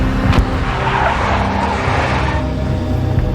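Tires skid loudly under roaring car engine noise in the Max Payne video game, a big black Mercedes screeching in a sustained slide for several seconds.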